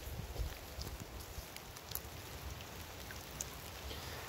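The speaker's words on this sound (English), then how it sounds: "it's raining quite some" Rain patters steadily and softly, a faint continuous hiss with occasional sharper drops.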